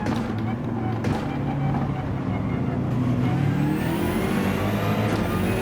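A BMW M6 GT3 race car in Gran Turismo 7 drives at speed on a track, its engine note droning steadily and rising toward the end, with someone talking over the car throughout.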